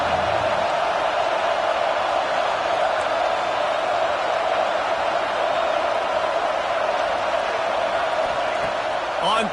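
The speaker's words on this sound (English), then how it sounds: "Listen to this crowd just shaking the girders of this place trying to help their defense." A stadium crowd at a football game roars steadily and loudly to back the home defense, a dense, unbroken wall of noise with no pauses and no clear applause bursts.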